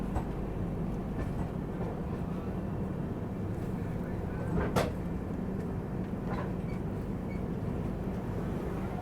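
A Mizoram Rajdhani Express rolls through Katakhal Junction in Northeast India, its steady low rumble running throughout with a brief sharper clank near the middle, heard from on board at a moderate, even level.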